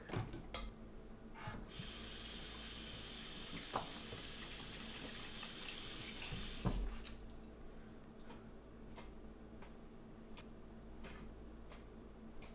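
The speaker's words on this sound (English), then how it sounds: "I'm gonna rinse out my sifter real quick." Flour sifter rinsed under a running kitchen tap: a burst of close water flow lasting several seconds, then scattered drips and handling clatter, with no speech.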